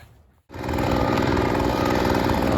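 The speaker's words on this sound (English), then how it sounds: "y'all done with the mowing on this property" A lawn care crew's lawn mower cutting grass on a property starts after a brief quiet moment and runs as a loud, close, steady engine drone with no talk.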